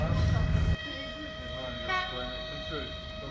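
Passenger train on the Trans-Siberian line between Vladivostok and Ulan-Ude running steadily, a continuous rumbling rail noise with a sustained tonal whine and a louder burst at the start, with no talk.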